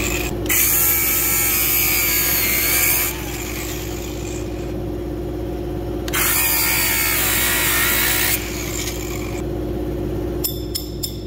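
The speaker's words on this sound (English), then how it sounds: "sometimes some stubborn ones, I can't get the Torx bit to hold on there, so you gotta cut them off" A power tool whines loudly while cutting stubborn studs out of a Yamaha V-max 700 snowmobile track, running in long steady bursts that pause and restart, with a brief rattle near the end.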